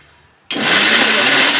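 After a short quiet moment, a mixer grinder grinding a sweet filling with jaggery roars on loudly and whirs steadily at close range until it cuts off abruptly.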